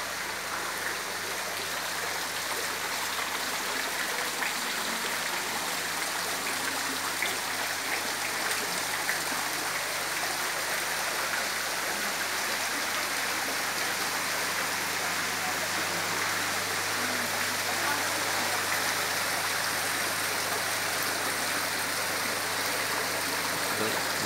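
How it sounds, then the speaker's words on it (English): Garden water feature waterfall spilling into a koi carp pond, a steady continuous splash and trickle at moderate distance throughout. "Water feature waterfall at the far end."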